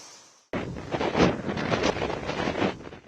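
Strong coastal wind gusting during Cyclone Ditwah on the Tamil Nadu coast, a loud continuous roar buffeting the microphone, starting abruptly after a brief quiet moment and surging in rough waves throughout.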